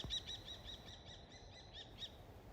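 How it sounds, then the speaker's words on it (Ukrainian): Several birds chirp in quick repeated bursts, high and fairly faint, as they skirmish in the air above a mountain road near a village in the Carpathian uplands; no voices. "З самого початку нашого шляху нас зустрів такий повітряний бій між птахами."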